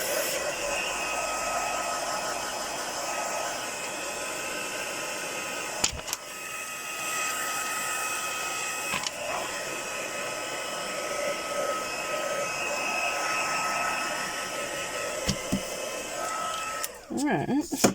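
A hair dryer blows steadily to dry a paper page, a constant loud whir broken by brief switch-offs and clunks, with faint talking near the end.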